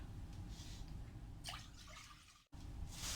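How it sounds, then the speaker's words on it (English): Vegetable broth, left over from boiling vegetables, pours into a soup pot with a steady, quiet liquid trickle and splash, continuous and close, with brief brighter splashes near the middle and end. "I have lots of broth here from vegetables that I had boiled earlier. So I'm pouring in all of that."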